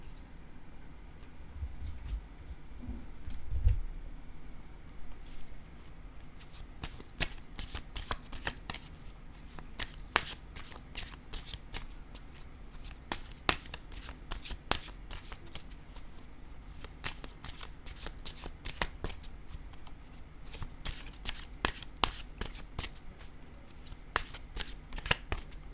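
A deck of oracle cards shuffled by hand for nearly half a minute, a steady stream of close, soft riffling and slapping with no talking.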